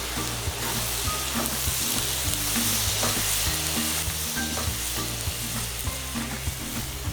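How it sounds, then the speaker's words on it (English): Bacon jam sizzles loudly in a pan as brown sugar and maple syrup are stirred in, the constant frying hiss broken by scraping and knocking stir strokes, close and without voices. "So in with some brown sugar, and then in with our maple syrup. Give it all a stir through there."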